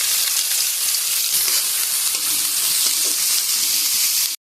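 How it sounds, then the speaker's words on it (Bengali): Onions sizzle steadily in hot oil in a wok, a loud, continuous frying hiss that runs alone without pause until it cuts off at the end. "আমি এবার কড়াইতে পেঁয়াজটা দিয়ে দিলাম।"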